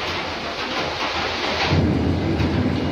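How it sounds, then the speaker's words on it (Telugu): Thunder rolls in deep and heavy under steady rainfall on a rainy day at home, the rumble swelling louder in the second half over a constant wash of rain. "ఓ భలే ఉరుములు వచ్చేస్తున్నాయండి"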